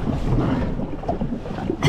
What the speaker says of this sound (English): Now I'm coming too close to the land and I have to paddle again.